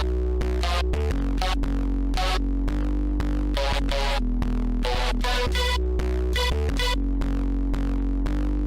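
Synth layers pushed through heavy multiband processing and distortion in an electronic music production, loud pulsing chopped chords with a deep sustained bass underneath, no voices.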